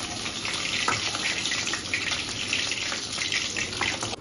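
Fish pieces frying in a wok for chilli fish, a steady dense sizzle of hot oil that runs loud and continuous throughout, with no voices.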